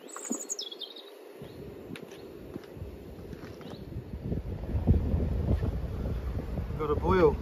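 Wind blowing outdoors in the Peak District on a cold, sunny day, a steady rushing buffet that builds louder over the second half, with brief faint bird chirps near the start.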